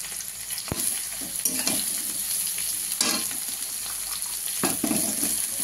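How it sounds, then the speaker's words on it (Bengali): Water lily stems sizzle loudly in hot oil in a pan, a steady close frying hiss broken by a few sharp spatula scrapes and knocks as they are stirred, with no speech. "তো ভাজা হয়ে যাচ্ছে, এবার আমি দিয়ে দেবো শাপলাটা"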